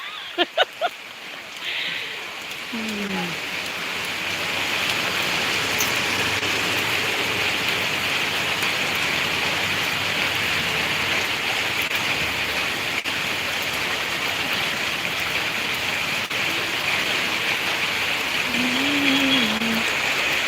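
Heavy rain pours down in Madurai as a dense, steady roar that fills the scene for most of its length, after a few brief knocks at the start and with faint distant voices underneath.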